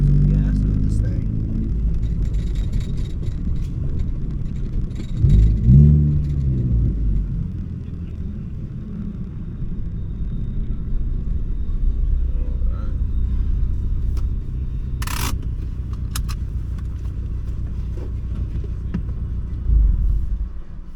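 A Ford Focus ST fitted with a Sidewinder kit rumbles low and steady while driving, a continuous close engine drone with brief swells and a few faint clicks, no voices over it.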